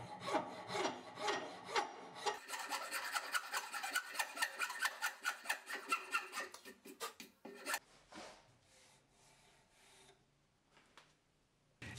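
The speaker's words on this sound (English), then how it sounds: "I'm gonna use the file to clean up the cut marks of the rasp." A metal file scrapes in quick, rhythmic back-and-forth strokes across wood to smooth rasp marks, the strokes close and crisp before slowing and fading into sparse, quieter rubs.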